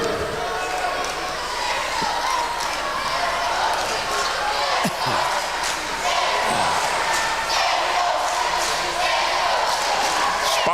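Arena crowd noise with cheering and shouting at a girls' high school basketball tournament game, steady and loud throughout, with occasional ball bounces and sneaker sounds.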